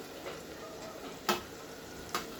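Chopped okra dropped into hot oil with beans and spice, sizzling softly in a steady hiss, with two brief crackling pops standing out, no talking.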